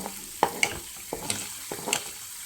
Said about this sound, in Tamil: சிம்மிலே வச்சு பண்ணுங்கள் கிண்டி விட்டுக்கிட்டே இருங்க